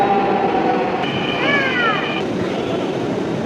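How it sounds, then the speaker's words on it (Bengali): A Dhaka metro rail train pulls into the station with a steady rumble and high electric whines that rise and fall, loud and continuous throughout. "চলে এসেছে আমাদের মেট্রো রেল।"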